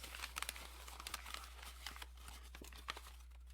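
A paper map is crumpled up by hand, giving close, irregular crackles and crinkles in quick bursts over a quiet background with a low hum.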